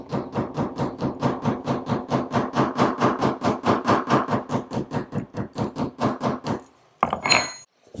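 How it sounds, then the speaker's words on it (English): A hammer taps down the stitches on plant-based leather in a fast, steady series of about thirty sharp knocks, close and loud, ending with a brief scrape. "So let's hammer these stitches down and see which one performs better for that."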